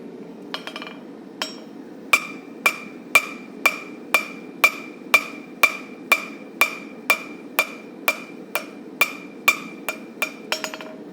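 A hammer forging the bevel of a railroad spike knife rings out in a steady rhythm of about twenty sharp metallic strikes, close and loud, with brief pauses between blows.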